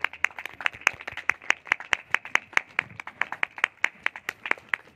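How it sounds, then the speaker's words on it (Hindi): Thin but steady applause from an audience at a junior high school event in Kusma, with individual claps clearly audible in a quick, continuous patter. "तालियां कमजोर पड़ रही हैं।"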